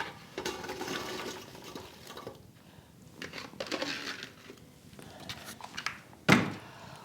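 Drained apples tipped into a pot in a kitchen, a run of wet rustling and crunching tumbles ending in a sharp clatter, close and moderately quiet.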